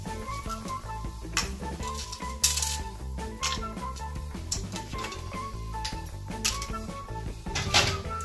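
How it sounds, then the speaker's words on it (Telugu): Whole biryani spices dropped into hot oil and ghee in a pan for Andhra egg biryani, giving a steady crackle and sizzle broken by repeated sharp clinks and taps of utensils. "ఆయిల్ వేడెక్కాక బిర్యానీ స్పైసెస్ వేసుకోండి."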